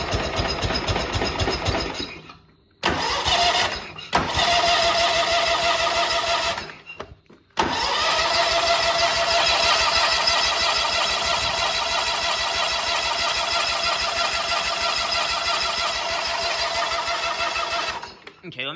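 A big riding mower engine cranks and catches with the choke partly open, stalling and restarting a few times, then running loud and steady for several seconds before cutting out; no talking over it.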